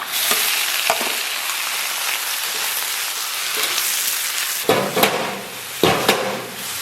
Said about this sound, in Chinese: 然后把咱们的配菜给下里边，金针菇、小白菜还有豆芽。